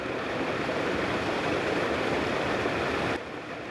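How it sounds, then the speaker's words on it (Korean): Muddy rainwater pours down a mountain valley at a military pilots' survival training ground during heavy rain, a loud, steady broadband rush that drops in level near the end. "졸졸 흐르던 골짜기의 물은 이미 흙탕물이 되어 쏟아져 내리는 생환훈련장."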